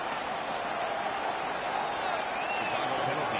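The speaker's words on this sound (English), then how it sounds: "The home crowd is ecstatic." Home crowd in the NHL 16 hockey video game roars steadily after a fight ends, a dense, continuous wash of cheering and applause that holds at an even level throughout with no clear talk on top.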